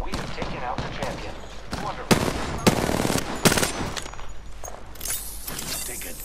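Apex Legends video game gunfire crackles in rapid automatic bursts and sharp individual shots, with several loud cracks standing out amid a busy, fluctuating battle mix.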